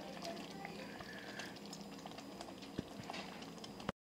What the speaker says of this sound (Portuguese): Vocês estão vendo que tá borbulhando, tá fervendo